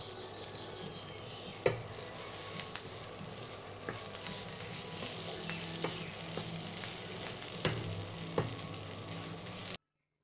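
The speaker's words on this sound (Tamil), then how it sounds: "மல்லிக்கீரையை மேலே தூக்கி நல்லா கலந்து விட்டு இறக்கிடலாம்" Coriander leaves stirred into a sautéing mixture in a pan for an iftar bread roll filling: a steady low sizzle with occasional scraping strokes and spoon taps against the pan, unaccompanied by talk.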